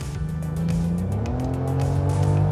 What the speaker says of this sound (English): The exhaust gets louder, the seat hugs you tighter